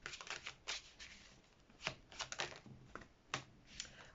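Tarot cards are shuffled, drawn and laid down one after another in quick, soft papery flicks and slaps, faint and close with short pauses between.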